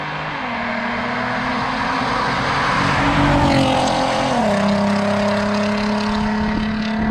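Stage 2 tuned Volkswagen Golf R MK7 engine revving through quick paddle-shift upshifts and downshifts, a droning engine note that steps in pitch at each shift, heard from inside the car.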